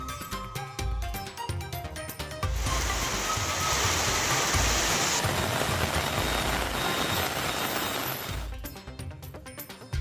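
Heavy rain pours down in Tamil Nadu towns such as Coimbatore, Srivilliputhur and Ramanathapuram: a dense, loud, steady roar of falling water that fills several seconds, with busier sound before and after.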